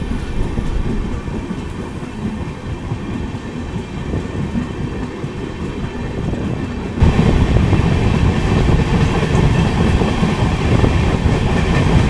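22616 Intercity Express with new LHB coaches running near Coimbatore, heard from inside as a steady loud rumble and rattle of wheels on track that grows louder about halfway through.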